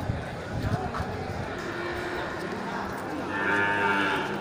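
Cattle lowing at a busy livestock market in Aceh, a deep drawn-out moo rising near the end over a constant crowd murmur and people talking nearby.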